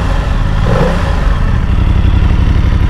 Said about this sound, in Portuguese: Este escape também muito estilizado, muito bonito, com um barulho até interessante.